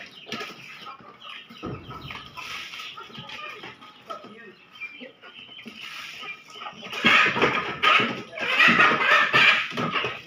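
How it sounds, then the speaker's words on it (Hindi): A hen and rooster cluck and squawk close by in a Pakistani village, growing louder and busier toward the end, with a person talking intermittently. "नीचे मुर्गी और मुर्गा।"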